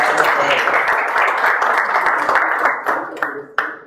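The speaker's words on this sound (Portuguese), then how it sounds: "Então, aplauso aos nossos colegas que lançaram essa ideia." Applause from an audience at an association meeting in Uberaba, Brazil, a steady wash of clapping that thins out into a few last claps near the end, with some voices mixed in.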